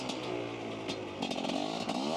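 Dirt bike engine revving in snow, a raspy buzzing motor that rises and falls in pitch with bursts of throttle, heard at moderate distance and fairly quiet, with no talk.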